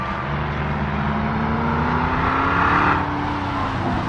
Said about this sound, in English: Looks like Corvette. Man, guy's working it.